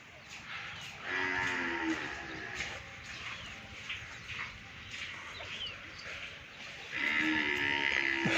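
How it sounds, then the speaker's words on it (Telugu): Farm working bullocks and cows let out long, loud moos, one early and another near the end, with faint birdsong and farm noise in between, at a farm in Kankipadu, Krishna district. "వ్యవసాయం చేసే ఎద్దులు"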